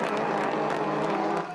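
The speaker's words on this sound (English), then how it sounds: "Listen to the crowd." A large outdoor crowd cheers at the Grand Prix de Trois-Rivieres motor race, a dense continuous roar of voices and clapping from fairly far off, steady throughout with no break.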